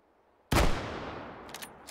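A single loud, close Remington M40A1 rifle shot fired at a sausage, with a sharp crack and a long echoing tail that slowly fades, followed by faint clinks near the end.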